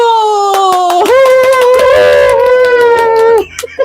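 Hands clap in a quick welcome for a friend joining a New Year jjajangmyeon mukbang, sharp close claps running under a long, drawn-out voiced cry that fades out near the end.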